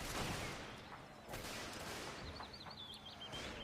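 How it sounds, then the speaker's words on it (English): Cannon and musket fire in a Mount & Blade North & South mod line battle, a dense, continuous crackle of volleys and distant booms blending into a rough battlefield roar, with faint chirping over the top. "Shooting out against the enemy."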